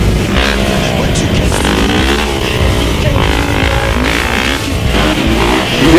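A motorcycle engine revs loud and close at a bike life gathering, a continuous roaring drone with rising and falling pitch and a faint voice underneath.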